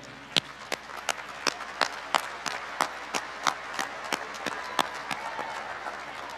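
Graduation audience at the 2023 South Side ceremony clapping for parents and families, a steady wash of applause with distinct sharp claps standing out at a fairly regular pace throughout.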